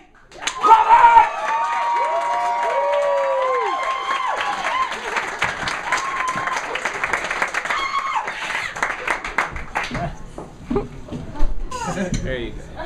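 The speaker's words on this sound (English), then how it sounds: "I want everybody to please give a big round of applause for Traci Roberts!" Audience applause and cheering ring out after a loud whoop, steady clapping from a crowd with voices calling over it, thinning out toward the end.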